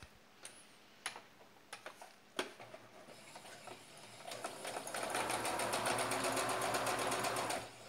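After a few scattered ticks and clicks, a sewing machine runs in a fast, even burst to press-stitch a men's shirt collar, fairly quiet and close.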